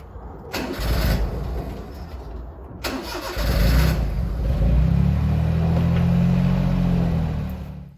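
A 1991 Honda Beat's engine cranks in two short bursts, then catches and settles into a steady, close idle before starting a test drive.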